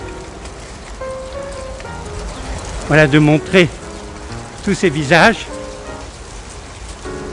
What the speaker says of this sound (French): Là il pleut, hein